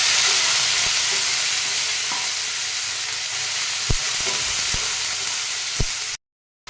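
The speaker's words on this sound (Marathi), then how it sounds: "आता मी कांद्याची पात छान धुवून घेतलेली आहे ती याच्यात मी आता टाकणार आहे" Spring onion greens fry with garlic in a pan, a continuous hissing sizzle with a few soft clinks of a spatula, then sudden silence at the end.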